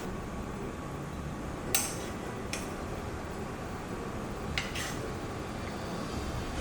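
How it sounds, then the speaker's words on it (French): Brussels sprouts sauté with maple syrup in a pan, making a soft, steady sizzle at low volume, broken by a few sharp clinks of a utensil against the pan. "Et maintenant, on va les faire revenir à la poêle avec du sirop d'érable."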